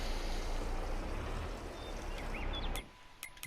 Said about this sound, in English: I can hear the water going